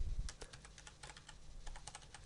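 Fast typing on a computer keyboard: a quick, irregular run of light key clicks, close and fairly quiet, over a low background hum and with no one speaking.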